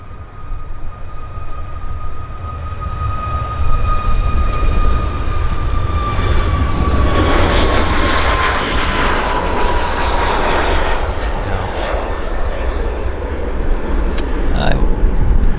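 A Q400 turboprop airliner rolls along the runway at Vancouver Airport, its steady engine drone and whine building and holding loud throughout, with a faint voice underneath.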